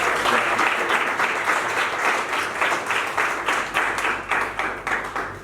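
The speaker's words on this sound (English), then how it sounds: "you should give yourselves a big round of applause." Applause from an audience at a medical association gathering, a full wash of clapping that thins into rhythmic, synchronized claps toward the end, with no talk.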